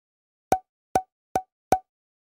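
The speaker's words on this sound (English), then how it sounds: "Now you just put it on the pan." An oiled wooden spoon set down onto a pan, four short hollow knocks evenly spaced in otherwise silent surroundings.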